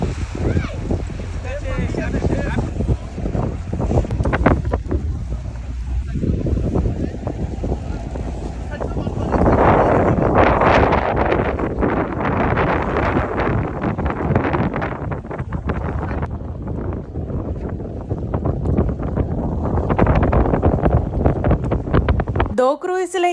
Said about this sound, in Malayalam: നമ്മുടെ ബോട്ട് മറ്റേ ബോട്ടിനെ കയറ് കെട്ടി വലിച്ചുകൊണ്ട് വരികയാണ്